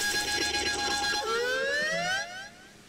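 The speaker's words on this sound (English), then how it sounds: "I love the Pokemon cry. Like he's just being a tornado siren for no reason." A siren-like Pokémon cry from Pokémon Legends Arceus, a loud rising and falling electronic wail with a sharp downward swoop that then glides upward, ringing on before dropping off near the end.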